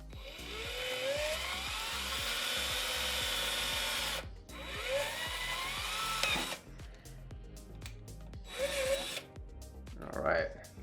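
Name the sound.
drilling a tiny pilot hole in a PC case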